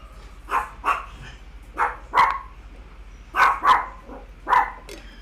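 A dog outside barks repeatedly in scattered bursts, single barks and quick doubles spaced unevenly, moderately near and clear over a faint low hum, with no talking.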